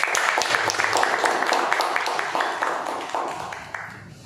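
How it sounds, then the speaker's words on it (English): A Toastmasters club meeting audience gives a round of applause, a dense run of claps that holds steady and then thins out and fades toward the end, fairly close and on its own. "Let's give a huge round of applause"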